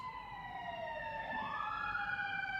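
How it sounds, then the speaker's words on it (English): Emergency vehicle sirens wail on a Los Angeles street, a steady rising and falling tone that holds clearly through the whole stretch over a low traffic rumble, with no talking. "And excuse the sirens."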